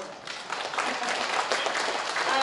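An audience claps at a live talk event for a Cheongyang county council member, a dense, sustained round of applause that swells slightly and continues through the whole stretch.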